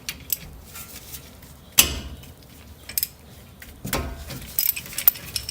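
A wrench clanks and rattles against the front brake caliper bolts of a 2008-2012 Honda Accord as they are loosened: a few sharp metallic knocks and jingles, close by, separated by quiet pauses.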